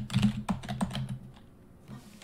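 Password being typed on a computer keyboard during a WSL setup: a quick burst of a few keystrokes up front, then a softer trailing click, close and clear, with no talking.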